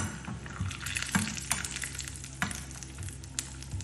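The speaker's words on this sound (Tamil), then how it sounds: "இப்போ அந்த நெய்யில் நான் கொஞ்சமாக முந்திரி போட்டிருக்கேன்." Cashews fry in ghee with a close, bubbling sizzle, broken by repeated spoon clinks and scrapes in the pan at an uneven pace.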